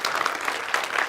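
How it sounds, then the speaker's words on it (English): Steady applause from a programming conference audience after a talk, a dense wash of clapping that holds at an even level throughout. "Please give him a round of applause."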